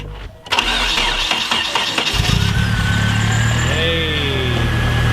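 A Nissan 240SX engine fires up after a brief quiet start, then settles into a steady, loud idle with the clutch held in, a low throbbing rumble running throughout alongside a faint high whine.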